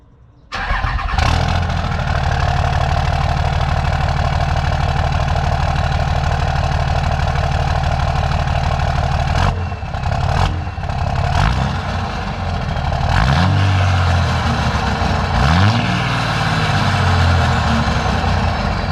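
A 2006 Cummins diesel truck fitted with a 5-inch MBRP exhaust starts and settles into a deep, steady, rumbling idle close by, with a few brief revs and clattering bursts later on.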